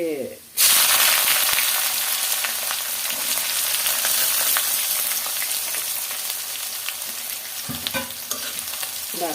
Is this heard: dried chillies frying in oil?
yes